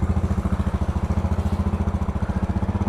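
A 2012 Royal Enfield Classic 500 motorcycle exhaust idling close by, a deep steady single-cylinder thump with even, rapid pulses and no voices.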